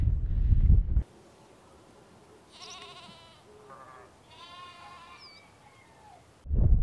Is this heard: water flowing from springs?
no